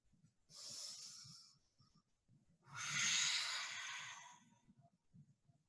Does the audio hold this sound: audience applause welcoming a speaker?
no